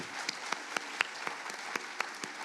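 Scattered hand claps from a school convocation audience honoring the board of school commissioners: about nine distinct, fairly quiet claps spaced irregularly over a soft room background, with no talking.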